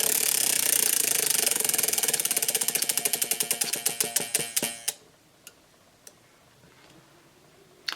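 A prize wheel spins, its pointer ticking rapidly and then slowing into spaced clicks as it coasts to a stop, followed by a few isolated faint ticks in near silence.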